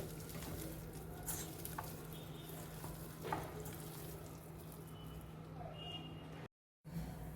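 Chicken with curry leaves and crushed garlic being stirred in a pan makes a quiet, continuous sizzle with soft scraping and patter over a low steady hum, broken by a brief dropout near the end.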